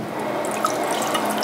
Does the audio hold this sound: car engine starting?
no